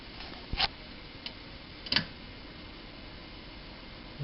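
Steady low mechanical hum and hiss with a few sharp clicks and ticks scattered over it, faint and continuous, from a running 1959 Westinghouse 44AC-1 record player.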